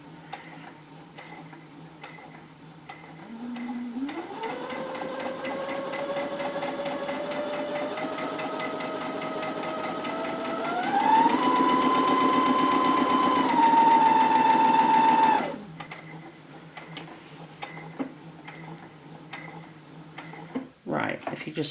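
A sewing machine reversing to backstitch and lock the stitch, its motor whirring up in pitch and running fast before cutting off abruptly, with a person talking quietly around it and clicks afterward.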